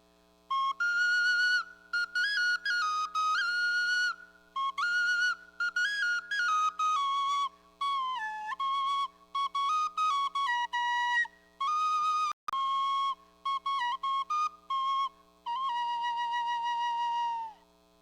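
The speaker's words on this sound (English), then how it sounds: "They are called tlapitzalis because they are made out of one single pipe" A tlapitzali, a single-pipe tubular flute, plays a clear breathy melody of separated phrases with bending pitches and short pauses, close and alone with no voices.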